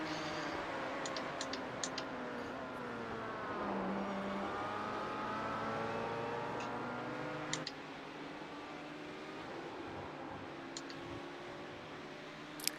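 An LMP1 prototype race car roars past during an endurance race at Monza, its engine tone climbing and falling through gear changes, layered with other cars' engines in a dense, continuous racing din.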